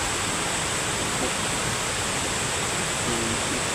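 Running water flows down from uphill beside a rural home, a steady broadband rushing that stays loud and even throughout, with faint voices barely present underneath.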